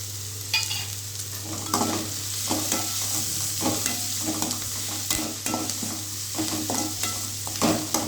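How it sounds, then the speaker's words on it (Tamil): Onions sauté in a pan for a chicken gravy, with a steady soft sizzle under repeated scraping stirs of a spoon against the pan, close and fairly loud with no talking. "இப்போ இது நல்லா வதக்கிக்கலாம். வெங்காயம் வந்து கொஞ்சம் நல்லா வதங்கட்டும்."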